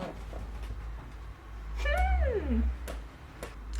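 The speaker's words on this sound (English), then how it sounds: "My cat bite me." A cat lets out one drawn-out, falling meow at close range, with a few faint clicks and a low rumble underneath.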